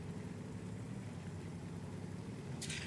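Low, steady tank engine idle from World of Tanks, an E 75 TS heavy tank on the Ruinberg map, rumbling evenly throughout with a brief higher hiss near the end.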